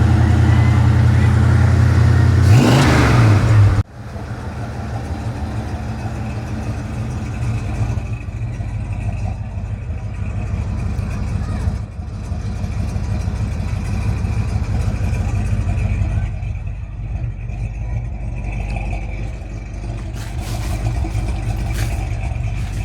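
1969 Plymouth Road Runner V8, parked for 25 years, idling with a rough, throbbing rumble close by after a loud opening rev, steady running throughout with people talking over it.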